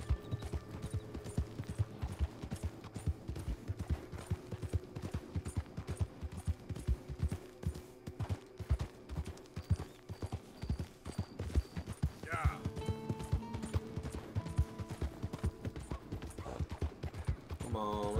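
A horse trots with a steady clip-clop of hooves in a Western-themed video game, close and continuous, with brief game chimes and effects mixed in and a voice speaking over parts of it.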